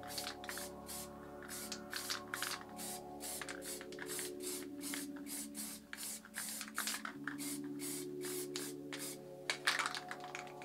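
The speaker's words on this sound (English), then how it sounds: "Like I said, I'm just going to spray round these lids." Orange Auster spray paint is sprayed around lids for spray paint art, heard as a rapid series of short, hissing bursts, fairly faint and close, with brief pauses between each spray.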